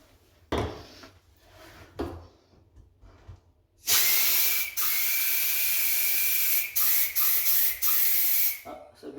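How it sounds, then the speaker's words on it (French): Air blow gun hissing loudly as it pushes electrical wires through conduit during home renovation, a long sustained blast of compressed air with brief dips, after a few short puffs. "On y met la soufflette, la pression."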